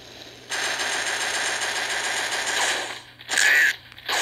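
Automatic gunfire in a video game rattles as a dense, sustained burst for a few seconds, then cuts out and returns in two shorter, louder bursts, with no talk over it.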